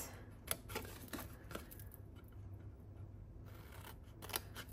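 Scissors cutting through card for a double hinge box craft, several soft close snips at an irregular pace, quiet and without speech.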